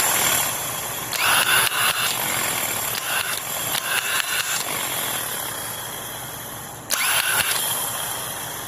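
A vehicle starter motor cranks after a pinion gear repair, giving a steady whirring drone that carries through several seconds and then lifts sharply in level near the end.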